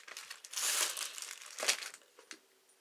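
Crepe paper handled up close, giving quick crinkling and rustling bursts with a louder stretch early on, then a few softer crackles that fade out.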